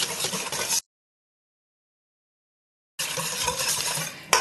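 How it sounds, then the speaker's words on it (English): Cocoa powder being stirred into chocolate cake batter made with beer, close scraping and tapping of a utensil in a bowl, cut by a stretch of total silence before the mixing resumes. "I'm just going to mix that up together to make a beautiful chocolatey batter."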